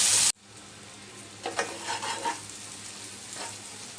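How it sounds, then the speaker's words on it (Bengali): Garlic and ginger paste fry in a pan, a brief loud burst at the start and then a quieter sizzle with a few stirring scrapes, close and with no speech. "এবার দিয়ে দিচ্ছি আমি 1/2 চামচ রসুন বাটা, দিয়ে দিচ্ছি 1/2 চামচ আদা বাটা। আদা রসুনের গন্ধটা যাওয়া পর্যন্ত আমি ভেজে নিব।"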